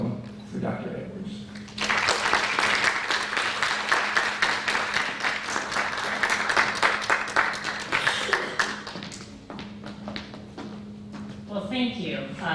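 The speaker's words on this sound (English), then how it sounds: "Please give a round of applause and a warm welcome for Dr. Edwards" An audience at a child-health advocacy award event breaks into a round of applause welcoming Dr. Edwards, dense clapping swelling in after a spoken introduction, holding steady, then tapering off as a voice returns.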